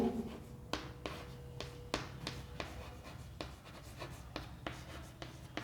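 Chalk or marker writing an equation on a board during a physics lecture, a steady scratchy stroking with sharp taps at regular intervals, close and moderately quiet with no talking.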